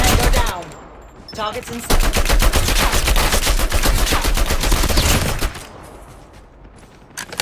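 A newly added gun fires in Call of Duty Mobile: a long, rapid automatic burst of close, loud shots, with brief game voice callouts before and after.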